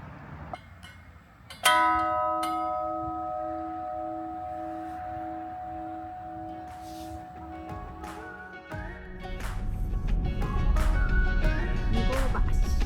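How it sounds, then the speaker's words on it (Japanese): The Love Bell at a museum in Amakusa, Kumamoto, Japan, is struck once and rings out with a long, sustained tone that slowly fades, followed by louder rumbling background noise. "奥にあるのは愛の鐘。"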